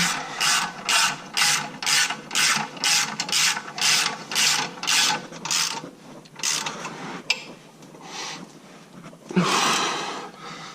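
Breaker bar ratcheting as lug nuts are snugged tight, a steady run of about a dozen rhythmic, close, loud ratchet clicks followed by a few slower, heavier strokes and a final strained pull.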